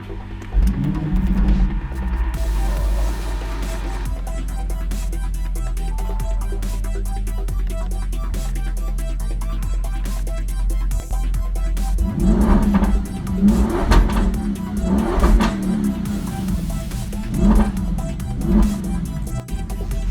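A 2017 Audi RS6 Performance with an Akrapovic exhaust idles with a deep rumble, then revs hard several times in loud bursts through the exhaust, close by.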